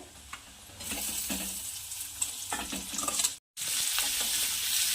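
Cluster beans tossed into a pan with chilli powder sizzle and crackle while being stirred, close and fairly loud, with scraping strokes, a brief cut-out of silence, then the frying resumes.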